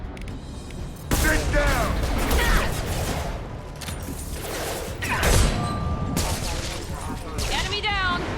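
Combat gunfire in Mass Effect Legendary Edition, with continuous weapon fire, impacts and thuds layered over a busy battle din, while a voice shouts briefly through the action.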